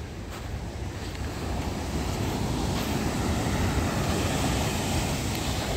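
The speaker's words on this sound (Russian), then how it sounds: "полюбоваться морем" Sea waves breaking on a beach at dawn in October, a steady, loud wash of surf mixed with wind rumble against the microphone, with no voices.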